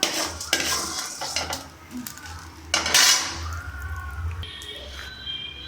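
Golden-brown roasted urad dal is scraped and tipped from a pan onto a plate, with clattering utensil-on-metal scrapes and knocks, a light sizzle, and a soft voice in the background.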